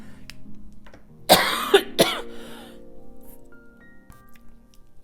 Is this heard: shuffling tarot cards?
no